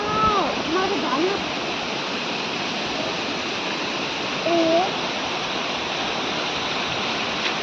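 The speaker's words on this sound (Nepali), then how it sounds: "झरनाबाट पानी गिरेको हेर्नु मजा लाग्छ मलाई" Water pours down a waterfall at Parsuram Kund as a steady, loud roaring rush, with a voice talking briefly over it near the start and again around the middle.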